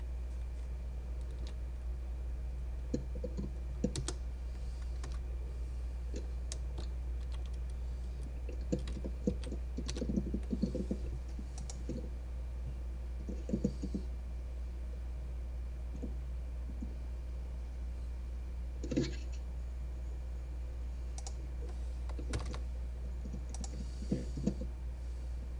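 Computer keyboard keys clicking in sparse, irregular bursts of typing while writing C# code, quiet and close against a steady low hum.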